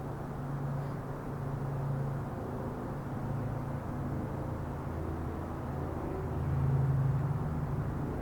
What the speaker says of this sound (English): Ah, traffic. That's probably a semi going by.